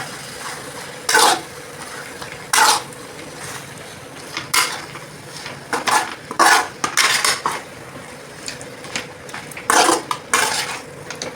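Chicken being sautéed in a pan with chopped mint and coriander leaves for chicken kulambu, with repeated loud scraping and clanking of a spoon against the pan in irregular bursts and no talking.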